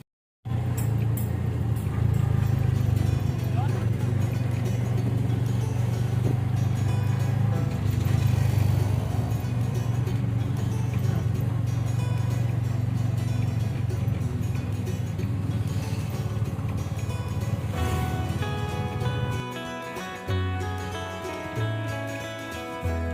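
Auto rickshaw ride during a Ganpati arrival, with a steady, loud low engine drone running throughout, then changing pitch and stuttering near the end as the vehicle slows.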